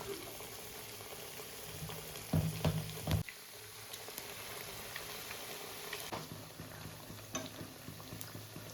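Thin onion vada fritters frying in hot oil, chaiakkada style: a steady, faint bubbling sizzle throughout, broken by a few brief splashy bursts as pieces are dropped in by hand, with no voices.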